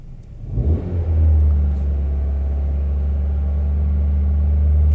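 A car engine revs up sharply after a brief low idle and then holds a steady, loud, droning high rev for several seconds with no talk, during a fuel-injection diagnosis with an open-loop, lean-running P0171 fault.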